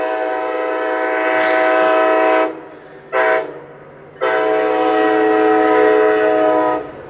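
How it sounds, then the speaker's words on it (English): A train horn blasts three times, two long blows split by a short one, over the steady rumble of a passing train. "a train coming."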